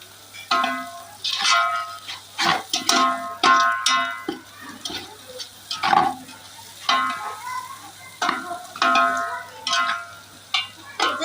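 Spring onion greens stirred and sautéed in a pan over a wood-fired chulha stove, with a steady soft sizzle and repeated scraping, clanking stirs in an irregular rhythm, close and fairly loud.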